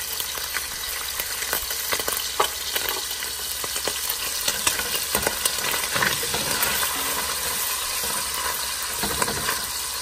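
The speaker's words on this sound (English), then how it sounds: "Give it a good mix so that it can start frying up and cooking up the pieces of ham" Ham sizzles and crackles steadily in a hot pan, with occasional stirring clicks and pops over a constant frying hiss.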